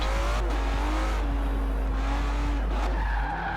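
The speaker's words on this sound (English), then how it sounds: "See how well it can drift." An Aston Martin One-77 drifts in Forza Horizon 4, tyres squealing in long sliding wails over a steady engine drone, close and loud from start to finish.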